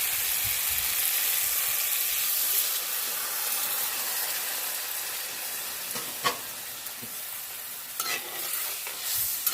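Hot water hits sizzling fried masala in a wok, bursting into a loud, close, steamy hiss that slowly fades and settles, with a few faint clinks toward the end and no talking.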